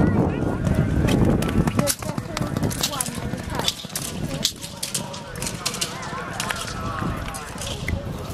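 Pony hooves clip-clopping at an equestrian riding event, a brisk irregular patter heard under steady commentary with some wind noise.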